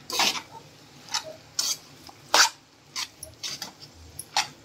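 Pasta with tomato ketchup and salt is mixed in a pan, a handful of separate scraping and clinking strokes with pauses between them, light sizzling underneath, close and fairly quiet.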